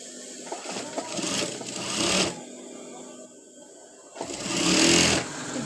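An electric sewing machine stitching fabric for a boy's pants runs in two distinct bursts of rapid whirring, separated by a quiet pause, close and moderately loud.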